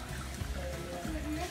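Spring water trickles and splashes softly into old stone laundry basins at a village washing place, a faint steady flow with low murmuring tones.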